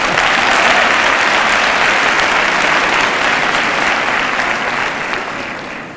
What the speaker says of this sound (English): you should clap for that professor there